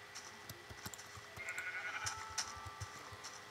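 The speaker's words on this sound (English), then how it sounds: "Gray sheep." Gray sheep bleating in the Minecraft video game, a few short in-game bleats amid faint clicks and ambient game sounds, moderately quiet with no talk.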